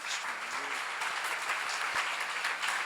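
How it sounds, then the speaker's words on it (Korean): Churchgoers at a seminar give a sustained round of applause, many hands clapping in a steady, full texture throughout, with faint voices mixed in underneath. "박수 하나 더 주세요."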